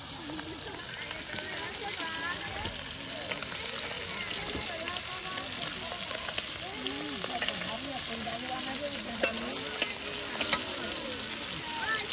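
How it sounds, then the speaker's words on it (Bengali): Hilsa fish pieces fry in hot oil during outdoor riverside cooking, giving a steady crackling sizzle with scraping stirs as they are turned. A voice talks over the continuous frying. "এগুলা তেলের সাথে উলট পালট করে দেওয়া হচ্ছে"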